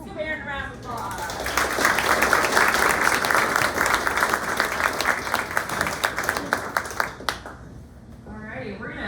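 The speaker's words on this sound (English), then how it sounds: "Give Aaron a round of applause." Dinner audience at a MicroGrant event applauds for about seven seconds, steady dense clapping that swells then tapers off, with brief talk at the start and end.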